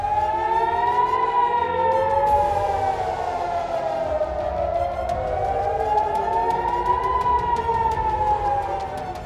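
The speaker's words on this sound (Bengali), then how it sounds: "ইরানি ক্ষেপণাস্ত্রের সতর্কতার পর ইসরায়েল জুড়ে বিমান হামলা সাইরেন বেজে উঠেছে।" A loud wailing air raid siren in Israel, sounded for an Iranian missile alert, rises and falls in slow, sweeping cycles, sounding steadily without pause.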